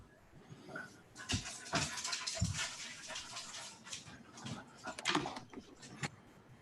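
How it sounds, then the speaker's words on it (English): A pet dog whimpers and pants excitedly in a home during an online parks and recreation meeting, quiet breathy bursts and whines repeating over several seconds in the background. "My dog got a little excited there, guys."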